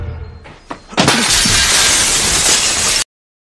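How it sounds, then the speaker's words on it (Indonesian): A window pane smashes after a ball is thrown through it in a film scene: a sudden loud shattering burst, then a dense crash of breaking glass that rings on for about two seconds before cutting off abruptly. "bahkan salah satunya berusaha memecahkan jendela ruangan"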